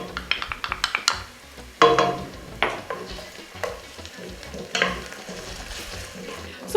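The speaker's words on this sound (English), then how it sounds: "I'm going to bring in my tomato paste. And I'm going to fry this" Tomato paste fries in a pot for jollof rice, with a spoon scraping and clattering in quick strokes, then steady sizzling and intermittent bursts of stirring.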